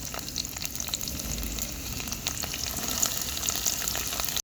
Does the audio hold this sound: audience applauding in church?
no